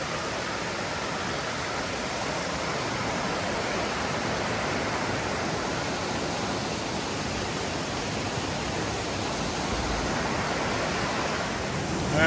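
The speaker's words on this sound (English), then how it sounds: "Made it up to Lynn Camp Prong Falls." Lynn Camp Prong Falls in the Great Smoky Mountains, a broad steady rush of falling water, constant and enveloping from start to finish with no voices.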